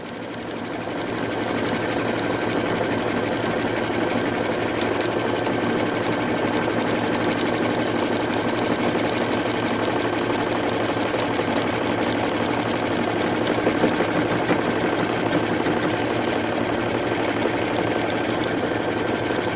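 Sewing machine zigzag stitching a patch over a hole in a pair of jeans runs continuously and steadily at close range, a fast even mechanical whir and rattle with no pauses and no talking.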